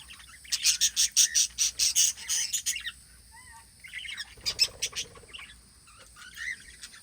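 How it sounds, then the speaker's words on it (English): Small former-pet parrots in an aviary give bursts of harsh squawks and chirps, loud and close at first, then quieter scattered calls and some wing flutter, with steady high insect-like hiss in the background. "This is the small parrot aviary."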